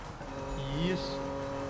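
A car engine in Need for Speed 2015 roars under nitro boost, a steady racing drone with a brief rising whine, mixed with faint tire noise.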